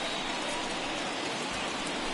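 Rain in the baseball video game MLB The Show 21, a steady, dense hiss of falling rain filling the stadium, loud and continuous with no talk over it.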